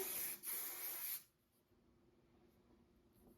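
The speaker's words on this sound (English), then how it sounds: "Go ahead and give it a spray." A hair smoothing spray bottle gives a short hiss onto hair, briefly interrupted, then a longer burst lasting about a second before fading to quiet room noise.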